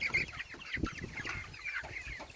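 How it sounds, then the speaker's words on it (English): Pastured meat chickens kept in chicken tractors on grass cluck and chatter steadily as a flock, a close, busy mix of overlapping calls with no talking. "We have so many chickens."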